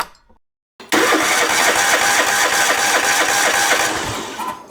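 A lawn tractor engine with a new fuel line and fuel filter, silent at first, then catches and runs steadily and loudly up close, a continuous mid-pitched chugging rumble with no talking over it.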